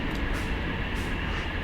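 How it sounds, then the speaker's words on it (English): A train passes near a narrowboat on the Aylesbury Arm of the Grand Union Canal, a loud, steady broadband rumble and roar that fills the whole moment without pause. "Yeah, train."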